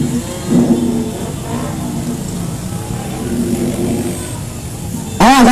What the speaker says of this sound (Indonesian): Ya, mundur mobil komando mundur.